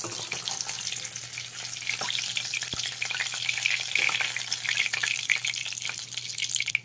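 Pieces of fish fry in oil in a pan over a medium gas flame, giving a steady, close, hissing sizzle with faint crackles and an occasional soft tap throughout.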